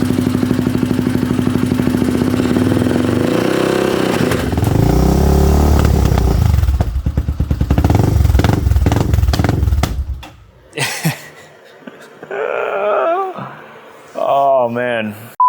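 Yamaha Raptor 660 ATV engine idling and revving close by, a steady chugging single-cylinder rumble with throttle blips and rattling, then cutting off, followed by short bursts of talk.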